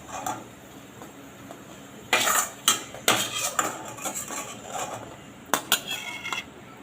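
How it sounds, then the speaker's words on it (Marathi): Fried paneer is moved onto a plate, with metal utensils clinking and scraping against a pan and dish in a series of sharp, close knocks and clatters, no voices. "आपण आता याला एका प्लेटमध्ये काढून घेऊ"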